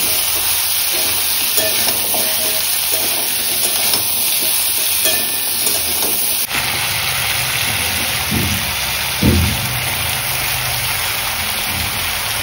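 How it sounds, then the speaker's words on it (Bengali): Vegetables fry in a pan with a dense, continuous sizzle, overlaid by stirring scrapes and a few clunks of the utensil near the end, with no voices. "সবজিগুলো ভালো করে ভাজা হয়ে গেছে,"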